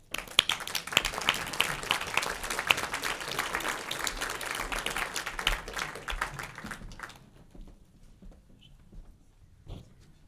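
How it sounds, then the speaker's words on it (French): An audience applauds singers at a concert, dense clapping lasting about seven seconds before thinning out to scattered claps and near silence. "On peut les applaudir."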